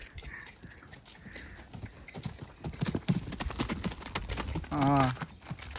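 Horse hooves clip-clop on hard ground nearby, an uneven run of sharp knocks growing busier, with a short voiced call near the end.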